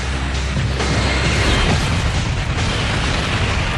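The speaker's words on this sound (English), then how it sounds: "The KLM smashes into the American jumbo at 290 kilometers per hour. Just a shattering noise." Dramatized collision of a KLM jumbo jet with an American jumbo on a runway at high speed, a loud sustained roaring blast and crash that fills the whole stretch without letting up, no talk.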